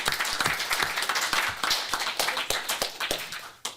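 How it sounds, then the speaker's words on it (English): Applause at a city council meeting: a crowd claps steadily in a dense, sustained patter of handclaps, with a few sharper individual claps near the end. "Give her a round of applause."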